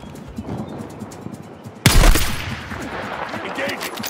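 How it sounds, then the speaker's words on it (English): Gunfire erupts in the Battlefield 6 shooter: a sudden loud blast midway, then scattered shots and combat noise, following quieter ambient battlefield sound and faint radio-style chatter. "Send it. Rounds downrange."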